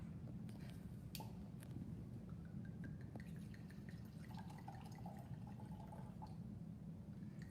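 A 2017 Cabernet is poured into a glass, its faint trickle and gurgle rising over a low, steady background rumble for several seconds, with no one speaking.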